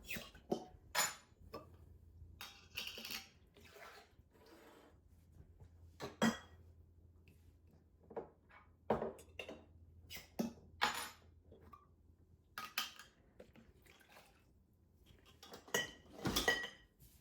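A spoon mixes seasoning in a bowl while cooking a pantry beef and barley stew, making light scattered clinks and scrapes in irregular bursts with quiet gaps between them; no one talks.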